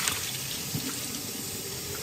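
Tap water runs steadily into a sink while canning jars are rinsed, a continuous close hiss and splash with small bumps of jars being handled and no talking.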